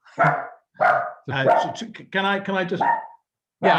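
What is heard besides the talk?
dog barking in the room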